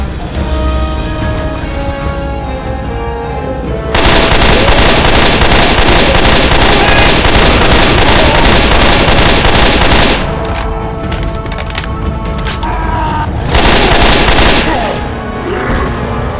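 Gunfire at infected in Left 4 Dead 2, loud sustained automatic shooting with dense rapid bursts, stretches of heavier fire broken by brief lulls of scattered shots.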